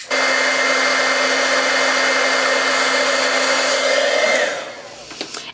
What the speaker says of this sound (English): now we're going to heat emboss this